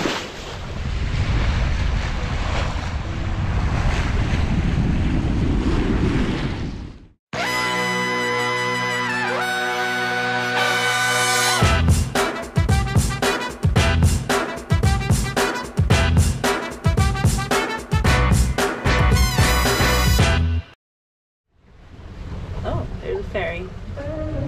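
A sailing boat under sail in the Solent, with steady wind buffeting the microphone and rushing water, interrupted in the middle by a long stretch of music.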